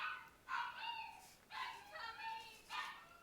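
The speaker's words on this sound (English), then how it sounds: "you can hear the dog howling." A dog howls in three rising, drawn-out bursts separated by short pauses, fairly faint and carrying a little distance.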